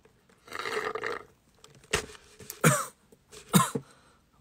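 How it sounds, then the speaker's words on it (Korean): A person coughs and clears their throat during a casual live stream, with a short murmur first and then two or three sharp, close coughs spaced apart. "기침이에요, 기침."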